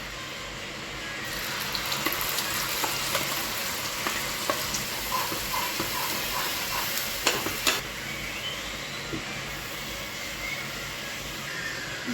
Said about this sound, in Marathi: तेल गरम झाल्यानंतर त्यात मसाला टाकायचा आहे आपल्याला।